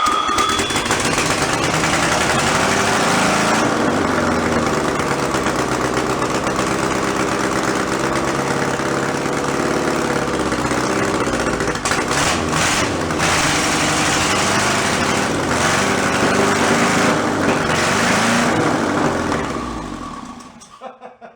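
An old, formerly rat-infested junk VW engine cranks and catches, then runs loud and steady at close range for about twenty seconds before it cuts out.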